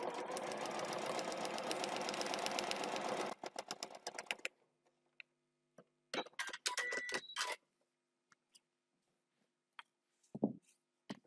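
A sewing machine stitches at a fast, steady clatter for several seconds and then stops, followed by short bursts of clicks and handling noises and one brief low thump.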